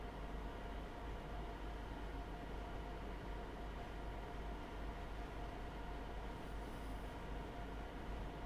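A Heathrow Express train in Train Sim World 2 rumbles along steadily while coasting, a continuous low, even rail noise with no pauses.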